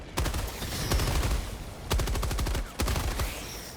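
Bursts of Liberator assault rifle fire in Helldivers 2, rapid close automatic shots in three or four strings separated by short pauses, loud and crisp with no talking.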